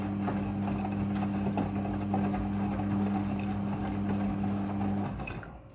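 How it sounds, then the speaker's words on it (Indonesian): A Midea front-loading washing machine running a rinse cycle hums steadily with a low motor tone, soft irregular sloshing and clicking of water and clothes in the drum, fading out near the end. "Mesin cuci front loading sudah full automatic dalam mencuci."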